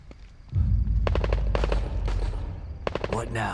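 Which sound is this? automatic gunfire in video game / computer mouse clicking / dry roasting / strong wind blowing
automatic gunfire in video game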